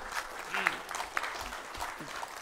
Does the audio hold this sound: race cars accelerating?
no